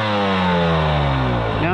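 A Husqvarna 300 TEi two-stroke motorcycle with a remapped ECU revs up, its engine note climbing steadily and loudly, close by and alone with no talk.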